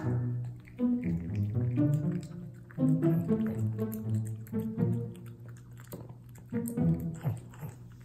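A puppy chews raw meat up close, with wet squishy bites and smacking in bursts separated by short pauses.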